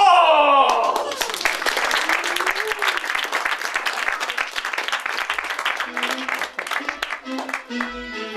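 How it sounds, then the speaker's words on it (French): Sustained audience applause at a theatre show following a bear-trainer act, loud and dense from the start with a voice heard briefly at the opening and faint music or tones entering toward the end. "je vous demande d'applaudir très fort le montreur d'ours et sa bête"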